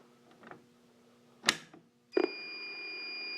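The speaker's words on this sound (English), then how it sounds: "we'll go ahead and pull the fire alarm." A Notifier NFW-100 fire alarm panel with an NFV-25/50 mass notification system goes into alarm after a pull station is activated: a few clunks and knocks, then a loud, steady electronic tone starts and holds to the end.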